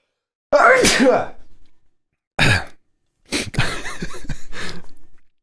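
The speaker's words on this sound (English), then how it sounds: "I'm going to sneeze" A loud, close sneeze bursts out, followed by a brief second burst and a longer stretch of rough, breathy vocal noise.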